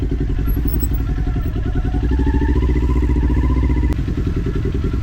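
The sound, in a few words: motorcycle engine revving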